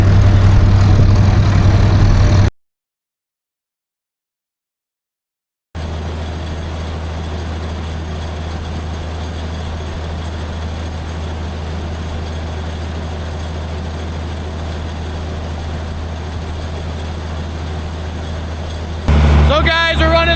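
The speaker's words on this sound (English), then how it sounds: "we're running the auger right now" An old 786 tractor drives a grain auger at about 1,500 RPM during wheat harvest, a loud steady engine drone with a pause of near silence early on and a harsher surge near the end, with a voice talking over it.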